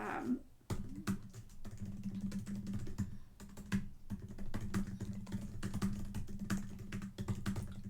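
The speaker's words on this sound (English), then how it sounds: "ASMR typing moment." Typing on a computer keyboard, a steady stream of rapid clicking keystrokes with brief pauses, close and clear over a low constant background hum.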